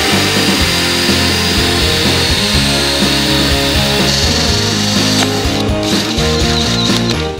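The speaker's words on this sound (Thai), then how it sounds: "ใช้งานกับหัวซอนะครับก็เจาะไม้ได้สบายมากครับ" A Stanley cordless drill fitted with a hole saw bores into wood with a loud, close, continuous grinding whir that stays steady throughout and fades slightly at the very end.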